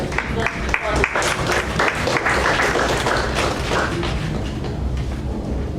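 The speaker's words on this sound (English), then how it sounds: "Give a big round of applause to my speaker." A room full of people at a Toastmasters-style speaking club applauds steadily, the dense clapping sustained throughout with a few louder individual claps standing out.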